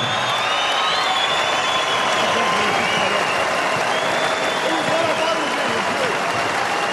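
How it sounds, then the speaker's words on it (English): A big crowd at a boxing match between Danny Green and BJ Flores applauds both fighters after twelve rounds, dense clapping and cheering filling the arena steadily throughout. "a big round of applause to both fighters for an absolute war"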